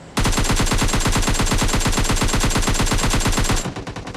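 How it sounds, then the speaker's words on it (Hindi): Sustained automatic gunfire from the mobile shooter PUBG Mobile Lite rattles in a rapid, even burst lasting over three seconds. It is loud and close, with no talking, and cuts off abruptly. "अब जैसे इसका गन साउंड आता, मतलब इसी बानोस की तरफ से आया था"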